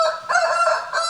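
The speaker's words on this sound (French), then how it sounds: "le morceau commence quand même par un coq" A rooster crows loudly and close at the opening of a song, one sustained, strained call with no talk over it.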